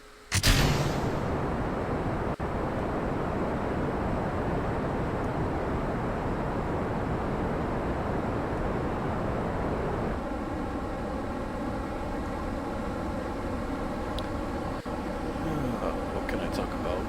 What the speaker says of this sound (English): SAS on, full throttle, and launch.